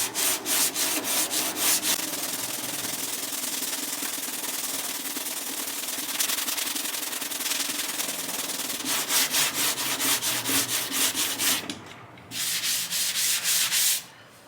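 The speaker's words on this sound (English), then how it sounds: "I'm gonna be using a 180 grit so I can highlight the dent for y'all. Yep, so just block sand it." Sandpaper of 180 grit being rubbed by hand on a block across a dented steel car body panel, steady rhythmic back-and-forth scraping strokes, close and continuous with a brief pause near the end.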